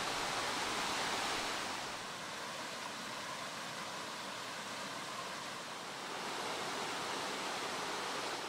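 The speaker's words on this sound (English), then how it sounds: "See what this little river is like." A small mountain river on misty Mount Moosilauke in the White Mountains rushes and splashes steadily, a close, continuous broadband hiss with no voices.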